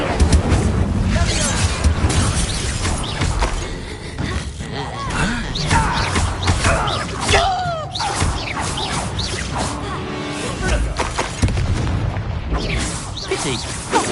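Incendio fire spell cast in Hogwarts Legacy on PS5: heavy booming blasts and whooshing bursts amid combat crashes, loud and close, with character voices speaking over the action.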